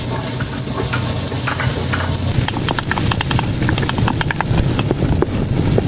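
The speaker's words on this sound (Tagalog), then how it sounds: "Magigisa na muna po ako ng bawang at sibuyas." Garlic and onion sauté in a hot pan for pork sinigang, a steady close sizzle running throughout with scattered sharp clicks and scrapes of stirring growing busier in the second half.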